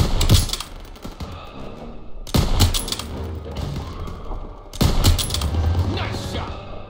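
Bursts of gunfire in a World War II shooter, Call of Duty WWII, come in three loud clusters of rapid shots with thuds and rumble between them, a battle din on a street with no talking.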